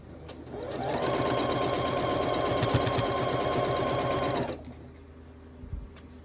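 A sewing machine runs in a steady, fast stitching whir for about four seconds, then stops; a faint clunk follows in the quiet.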